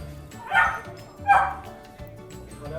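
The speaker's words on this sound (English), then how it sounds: "He's barking there a little bit." A dog gives two short, yippy barks about a second apart, fairly close, with a quieter whine following.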